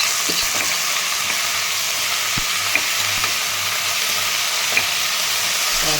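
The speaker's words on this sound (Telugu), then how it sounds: "ఇప్పుడు ఏం చేస్తానంటే, నేను దీంట్లో తోటకూర వేసేస్తున్నాను." Amaranth leaves tossed into a pan of frying garlic, a steady close sizzle with a bright hiss and occasional soft pops and stirring clicks, no voices.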